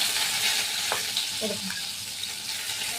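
Catla fish fries in hot oil with a continuous close sizzle, broken by a few small clinks and pops from the pan partway through, and no talking.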